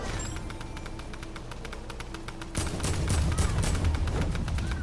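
Rapid video game gunfire at a live in-game event, dense repeated automatic shots that grow louder and heavier midway, continuous and close with no talk.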